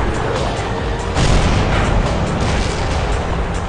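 Tank cannon fire in World of Tanks from an Object 140 on a monastery map, loud and dense throughout, with a sharper booming burst about a third of the way in, heavy rumbling battle sound, no talk.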